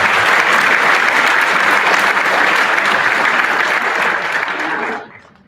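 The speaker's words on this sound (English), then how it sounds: "Give him a round of applause." An audience bursts into a loud, dense round of applause that holds steady for several seconds, then drops away quickly.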